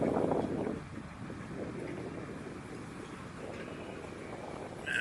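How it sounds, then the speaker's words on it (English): A strong, gusty southwest wind buffets around a boat on the River Ouse, a steady rough roar with a heavier gust at the start and no other clear sounds. "It's a nasty, nasty wind today. It's blowing from the southwest."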